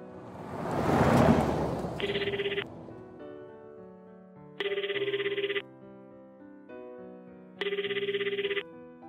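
A telephone rings unanswered, three bursts of repeated electronic ringing separated by pauses, heard alone over a soft musical background with no talking.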